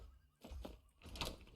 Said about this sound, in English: One of these damn doors I'm gonna open up now.